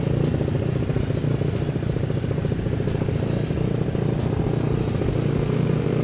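A modified automatic scooter is ridden along a street, giving a constant close engine drone mixed with road and wind rush and a light rattle.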